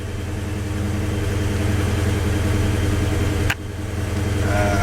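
A 1971 Chevy truck engine idles steadily while warming up, a constant low rumble held close and loud for the whole stretch, with one brief sharp click partway through and no talking.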